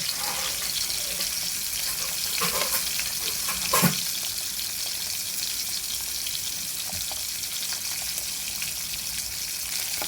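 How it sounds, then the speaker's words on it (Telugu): Salted fish frying in a pan, a steady close sizzle and crackle with a brief louder burst of spatter partway through, continuing evenly without speech. "చూడండి ఫ్రెండ్స్, ఎలా కాలుతుందో మా ఉప్పు చేప"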